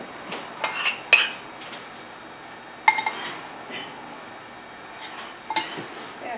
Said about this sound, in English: So we're just going to stir it to lightly coat all the mushroom